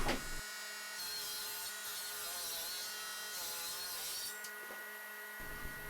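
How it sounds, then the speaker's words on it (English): A low-powered bandsaw resaws a board with a steady high whine and a rasping cut, interrupted by short pauses as the wood is fed through. "resawing on my bandsaw because basically I suck at it and my bandsaw doesn't have a ton of power"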